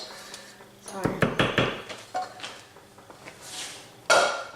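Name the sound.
Pyrex glass baking dish being handled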